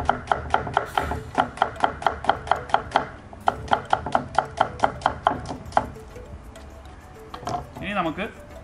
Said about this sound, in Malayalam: അപ്പോൾ ഒരു അരമുറി സവാള ഞാനൊന്ന് അരിഞ്ഞെടുക്കുകയാണ്